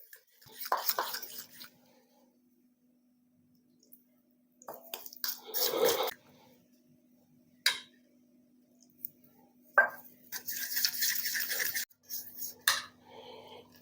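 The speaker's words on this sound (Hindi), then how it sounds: "अब इस स्टेज पे आपने थोड़ा सा पानी, बिल्कुल थोड़ा थोड़ा करके डालना है।" Water added a little at a time into chicken tempura batter, heard as short bursts of pouring and splashing separated by quiet gaps, close and fairly soft, with some light clinks.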